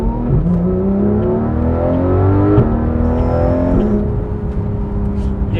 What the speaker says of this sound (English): Please start the car.